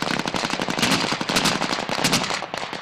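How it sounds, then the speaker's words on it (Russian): Rapid gunfire crackles nonstop through a border guard military exercise in Belarus, a dense, loud volley of overlapping shots from both sides with no pauses and no voices. "Стрельба с обеих сторон."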